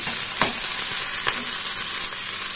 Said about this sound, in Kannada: ಈಗ ಬ್ಯಾಡಗಿ ಮೆಣಸು ಸೇರಿಸ್ತಾ ಇದ್ದೇನೆ. ಸ್ವಲ್ಪ ಇದು ಫ್ರೈ ಆಗಲಿ.